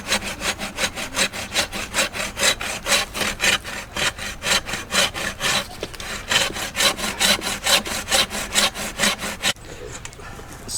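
A saw cutting off an olive tree branch during tree trimming, steady rhythmic back-and-forth strokes close by, loud and continuous with a brief pause midway, ending with a rustle.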